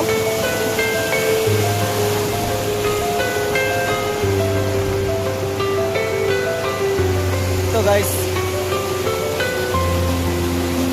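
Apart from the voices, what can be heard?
Surusuru waterfall rushing water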